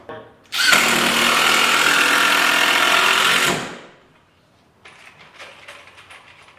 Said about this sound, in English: Let's drive in a nail or two, or a screw or two.